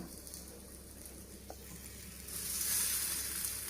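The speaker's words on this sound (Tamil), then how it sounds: "இந்த வாழைக்காவை ஒன்று ஒன்றா எடுத்து இப்படி போட்டுக்கலாம்" Raw banana slices laid on an oiled hot tawa, giving a soft, steady sizzle at low level that swells into a brighter, louder hiss toward the end.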